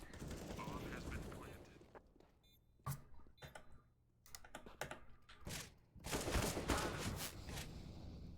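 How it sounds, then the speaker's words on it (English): Counter-Strike match in which a Tech 9 pistol fires a rapid series of sharp, clicky shots, with irregular bursts of gunfire following a stretch of noisy background talk. "we are seeing these shots from Swole AF's Tech 9 here"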